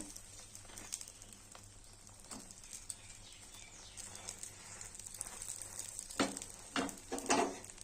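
Egg and bread slices frying in a pan, a low steady sizzle with occasional clinks and scrapes, growing a little louder toward the end, no talk.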